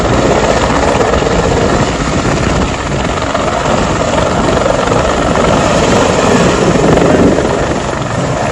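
Helicopter at the Kedarnath helipad, its rotor and engine roaring loud and close in a constant beating drone that holds for the whole stretch, with no voices.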